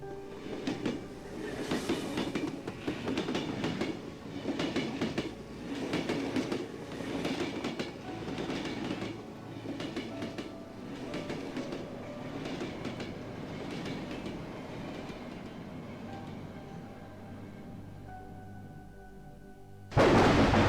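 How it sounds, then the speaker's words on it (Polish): A moving train in the horror video game Cry of Fear rumbles steadily with rhythmic clickety-clack of wheels on rails for about twenty seconds, ending in a sudden louder burst at the very end. "może właśnie my jesteśmy w pociągu."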